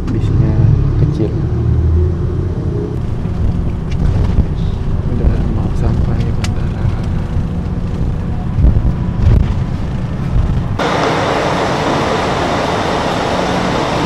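Small bus driving near Kumamoto airport, heard from inside the cabin: a steady low engine and road rumble with wind noise runs throughout, a brighter hiss toward the end, and people talk occasionally over it.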